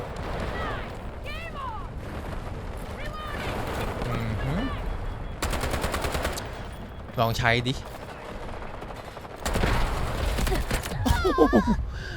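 Gunfire in the video game Delta Force during a multiplayer match: sharp bursts and single shots of rifle fire crack out at varying distances, mixed with game effects while a player talks over them.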